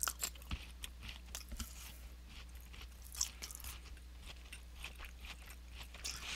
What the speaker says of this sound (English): I'm crunching into that.